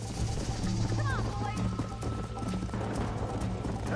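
Horse hooves clip-clop steadily in the Red Dead Redemption game, a continuous trotting rhythm up close with a brief whinny and a low ambient hum beneath, while voices talk over it.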